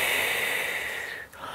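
A long, steady breath drawn during a Pilates exercise, close and soft, with a smooth airy rush that fades near the end, no talking.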